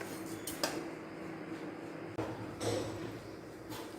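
Dry rice grains being stirred and roasted in a hot pan for chakli flour, giving a steady gritty rustle with occasional sharp scrapes and clinks of the spoon against the metal, fairly close, with no talking.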